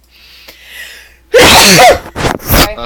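A single loud, close sneeze bursts out during a tabletop fantasy role-playing game session, after a faint murmur, and is followed by a couple of short vocal sounds and a brief word.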